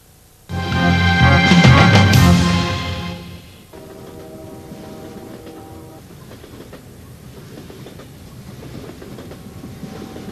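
A train rumbles loudly past with screeching, ringing wheels, then settles into a steadier, quieter rolling clatter on the rails.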